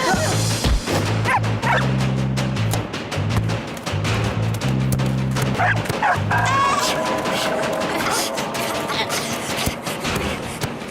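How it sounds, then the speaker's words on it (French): A dog barks and yips repeatedly nearby on a street football pitch, loud and excited, with whimpers mixed in and a rhythmic mechanical whir in the background. "Il y a un chien sur le terrain!"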